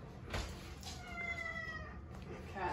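A cat gives a single drawn-out, wavering meow over a steady background hum, moderately close and fairly quiet, with soft noises around it.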